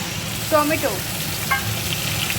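Grated tomato lands in a pan of fried garlic, raising a loud sizzle with brief stirring scrapes and a couple of short tonal squeaks, and a voice murmurs faintly beneath.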